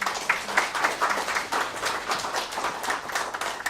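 A live audience applauds at a memorial book-launch event, dense steady clapping from many hands filling the room for several seconds, fairly close and continuous without talk.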